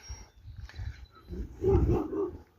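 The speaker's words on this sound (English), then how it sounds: "Oh yeah, it's more dogs." Dogs bark outdoors at a distance during a walk, with gruff, muffled yaps blending into rumbling wind and footstep noise, growing somewhat louder toward the end.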